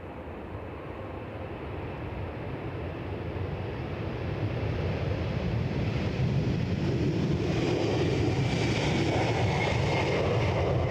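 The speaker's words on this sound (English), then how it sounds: "can just hear the engines picking up." Jet engines spool up at Edinburgh Airport in Scotland, a broad, steady roar that builds gradually over about five seconds and then holds loud and sustained, heard from a distance with some wind noise and no talking.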